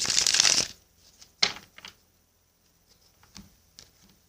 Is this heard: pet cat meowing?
no